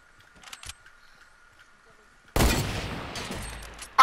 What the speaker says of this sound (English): I just sniped him 180